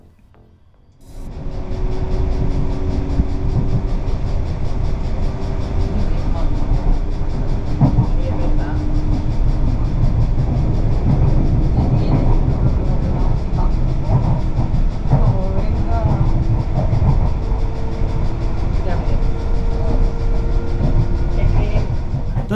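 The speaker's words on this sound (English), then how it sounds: "The class 470 is a fast suburban train" A Class 470 fast suburban train runs on rails on a short branch line toward Tarragona, giving a steady, loud rolling rumble with faint clicks and rattles throughout.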